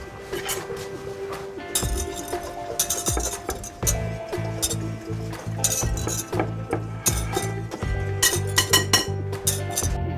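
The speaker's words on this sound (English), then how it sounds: "vigorously whisk 2 cups or 250 grams of bleached all-purpose flour and 2 teaspoons of baking powder in a large bowl to combine" Flour and baking powder whisked vigorously in a large bowl for a carrot sheet cake, giving busy clinking and scraping of a metal whisk against the bowl with rapid, uneven strokes throughout.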